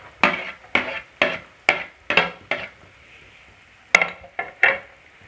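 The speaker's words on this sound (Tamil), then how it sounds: "நல்லா வதக்கி விட்டுப்போம்." Carrots, beans and green peas are sautéed in a pan for rava kichadi, with about nine sharp stirring scrapes and clinks of a spoon against the pan over a soft steady sizzle. No one speaks.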